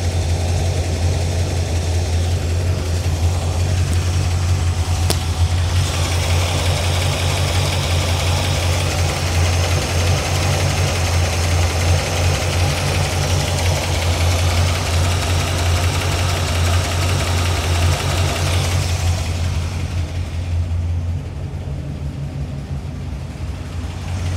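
A 1981 Corvette engine idles steadily at close range, a low rumble with a faint rapid ticking running through it, easing off near the end.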